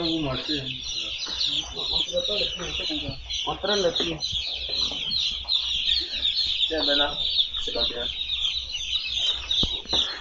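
Many newly delivered chicks peep in a poultry house during the reception of 3000 chicks, a dense continuous chorus of high chirping with some clucking throughout.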